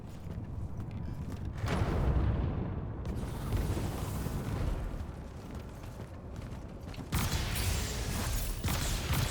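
Weapon fire from a Gatling-style homing missile attack in the video game Immortals of Aveum, heard as a dense, loud, continuous roar of rapid blasts and rumbling explosions that surges again near the end.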